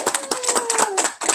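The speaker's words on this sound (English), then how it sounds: "How about a round of applause, everybody?" A first grade class at HBE claps for a guest reader, a short burst of small hands clapping in uneven bursts, close by, with a voice rising over it.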